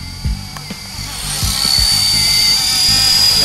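A small Helimax Novus FP 200 RC helicopter flies in light wind, its high rotor whine rising and holding steady with a few soft low thumps early on.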